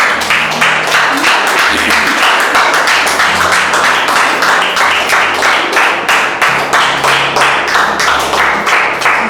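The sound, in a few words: congregation clapping hands in church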